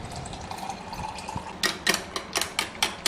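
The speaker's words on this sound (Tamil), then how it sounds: "அதில் வந்து இந்த மைதா மாவு இருக்குல்ல, அதை கொட்டிக்கணும். தண்ணி ஊற்றி கட்டி பிடிக்காமல் கலந்து விட்டுறணும்." Water is poured into a bowl of maida flour for a rasagulla batter, giving a quiet trickle followed by a run of short splashy bursts that grow more distinct toward the end.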